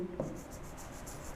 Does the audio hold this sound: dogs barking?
no